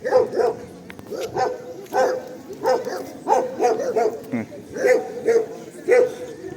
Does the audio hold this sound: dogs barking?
yes